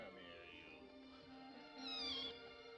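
Cats meow in a 1953 film scene, several thin, wavering cries in a row with a louder, higher meow near the end, heard without other sound over them.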